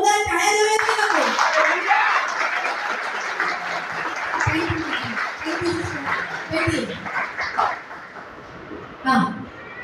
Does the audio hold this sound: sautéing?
no